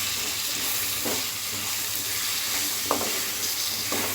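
A paste of chili, garlic and ginger sizzles steadily in a hot pan for a pumpkin, pea and potato gravy, with occasional stirring scrapes over the continuous frying hiss.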